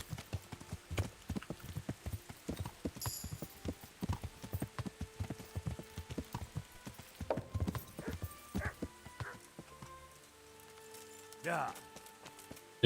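Steady clip-clop of horse hooves on hard ground in the medieval video game Kingdom Come: Deliverance, an even trotting rhythm with a brief whinny near the end and someone talking over parts of it.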